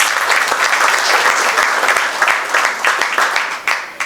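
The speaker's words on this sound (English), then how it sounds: "A round of applause for it." Audience applause at a MasterCard launch event, loud, dense clapping from a large crowd with a few sharp individual claps standing out, easing slightly toward the end.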